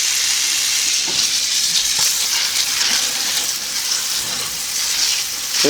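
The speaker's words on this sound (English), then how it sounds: "Just going to get them rinsed out here and dump this water a couple times." Water rushing and splashing as pint canning jars are rinsed and emptied before pressure canning beets, a loud continuous hiss with a few thuds and clinks, close by.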